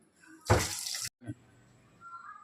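A short, close burst of tap water runs into a sink for about half a second as raw chicken is washed, then stops, leaving a quiet room with a faint splash afterward.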